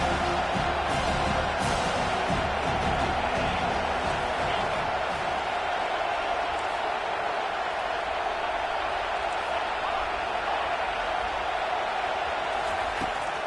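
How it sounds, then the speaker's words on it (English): A broad, steady roar from a stadium crowd in a college football video game fills the air continuously, loud and unbroken, with a slight swell near the start. "The roar of the crowd trying to fuel this defense to keep them pinned in their own end"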